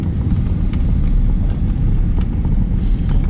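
A four-wheel vehicle driving off-road over a rough route near London, Kentucky, gives a loud, steady low rumble from start to finish, with scattered knocks and bumps on top.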